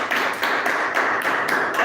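Clapping from the audience at a Toastmasters club meeting: a steady, dense run of hands with a faintly pulsing rhythm, close and fairly loud, with no talking over it.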